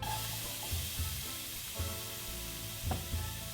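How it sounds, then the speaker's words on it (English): Steady frying sizzle of peppers and onions in oil in a hot pan, a continuous crackling hiss with a few brief clatters of stirring. "Hear that sizzle?"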